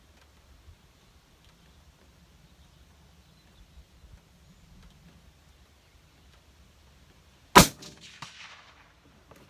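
A CVA Hunter muzzleloader rifle fires a single sharp, loud shot outdoors, standing out from near silence and followed by a brief decaying rumble.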